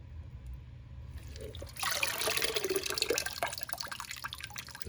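Water splashes and trickles as a phalaenopsis orchid is watered and left to drain, a bright, close running-and-dripping sound that starts partway through over a low background hum.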